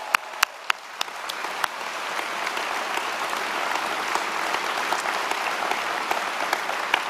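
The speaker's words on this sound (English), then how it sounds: "Could we have a round of applause, please, for all the Trans in the City directors?" Gala audience giving a round of applause for event directors, opening with a few sharp close claps before a broad, sustained wash of clapping from a large crowd fills the room at moderate volume.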